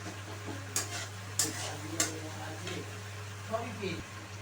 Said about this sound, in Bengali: এবারে আমি দিয়ে দিচ্ছি আদা বাটা, মানে আদার পেস্ট।